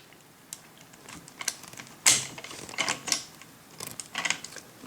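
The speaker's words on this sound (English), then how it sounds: "get your rifle stable. Of course it's unloaded, but we take the bolt out" The bolt of a Ruger Gunsite Scout rifle being worked and removed, giving a series of light metallic clicks and sliding scrapes close by, faint and irregular.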